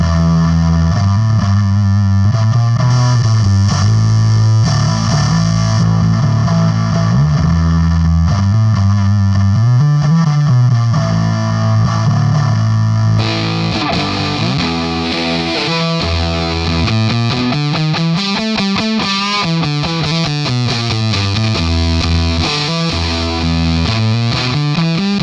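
A heavily distorted electric guitar is recorded with a back microphone through a Celestion Speakermix Pro impulse response, playing loud continuous riffs and sliding notes that brighten partway through, with no talking.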